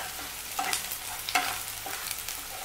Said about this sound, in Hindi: एक जगह से चलाते ही रहिए, नहीं तो ये प्याज जल जाएंगे।